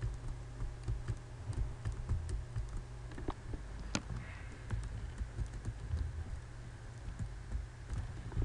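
Computer keyboard keys pressed for a Ctrl+Z shortcut among light typing, soft close clicks scattered irregularly over a quiet room hum, one slightly louder click standing out, no talking.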